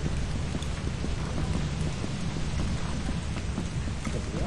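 Heavy rain pours down in the video game Lethal Company, a dense, constant hiss of drops under low rolling thunder, loud and steady with no talk.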